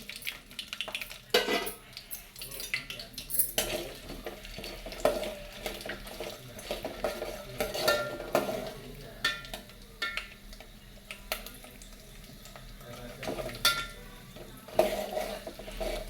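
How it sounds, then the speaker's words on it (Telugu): Peanuts, chana dal, urad dal and mustard seeds frying in a pan for semiya upma, a soft sizzle under repeated metallic clinks and scrapes of a spoon stirring against the vessel. "పల్లీలు కొద్దిగా వేగాక శనగపప్పు, మినపప్పు, ఆవాలు వేయాలి."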